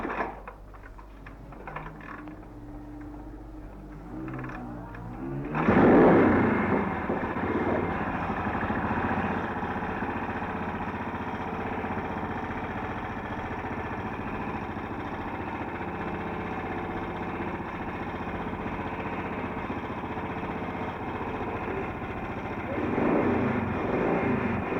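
A BSA motorcycle engine starts up after some talk and settles into a steady, droning run, continuing at an even level to the end.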